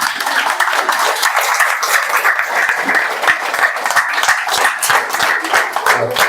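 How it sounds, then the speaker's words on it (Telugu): A seated audience at a speech stands and claps together, producing loud, sustained and fairly even applause with a slight murmur of voices beneath it. "ఒక్కసారి లేచి చప్పట్లు కొట్టుకొని మళ్ళీ కూర్చోండి."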